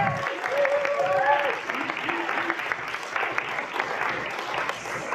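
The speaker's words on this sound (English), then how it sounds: "could you please give a round of applause to Aideen?" Audience applause at the launch of an anthology, a steady, dense clapping sustained throughout at moderate loudness, with a few voices and brief tonal murmurs mixed in early on.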